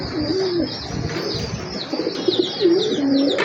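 A pair of large racer pigeons coo close by in a repeated series of soft throaty calls, with faint chirps from other birds in the background.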